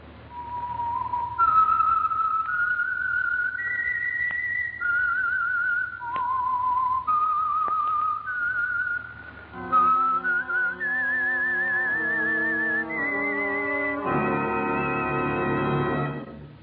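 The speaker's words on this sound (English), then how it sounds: "That whistle is your signal" A clear, loud whistled melody, the theme of the CBS radio drama The Whistler, rises and falls through sustained notes, joined partway by a low instrumental backing.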